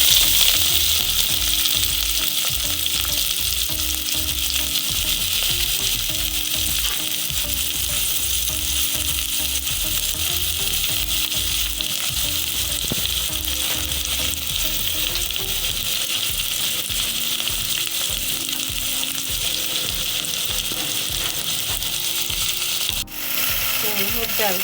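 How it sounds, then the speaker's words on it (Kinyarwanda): Onions and celery fry in hot oil for a plantain dish, giving a loud, continuous close-up sizzle with crackles and occasional utensil scrapes and rattles, sustained throughout with no talking. "Amavuta rero yahiye, dushyiramo ibi ni ibitunguru"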